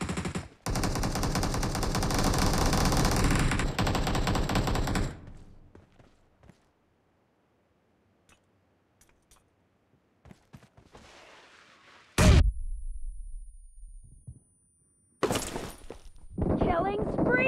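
Rapid automatic gunfire rattles loudly for several seconds in PUBG Mobile team deathmatch, then gives way to near silence and quiet footsteps before sharp single shots and another burst, with game voice callouts mixed in.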